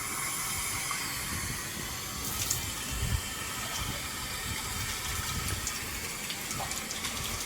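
Water gushing steadily from a pipe onto a balcony floor being washed, a continuous fairly quiet rushing and splashing with no talk over it.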